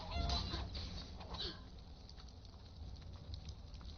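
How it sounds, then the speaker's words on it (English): In modded Skyrim gameplay, a chicken gives a few short clucking and squawking calls near the start, then quieter rustling and faint pattering over a low background hum. "Kill the chicken."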